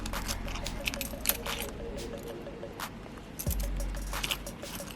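Keys on a Coach Mini Skinny ID holder jangle and clink close by in short bursts, with soft rustling and scraping in between, no talk.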